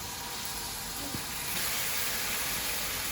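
Onion with salt, black pepper, turmeric and blended tomato frying in a pan, giving a steady broadband sizzle and hiss that stays even and close throughout, with a slight brightening partway through.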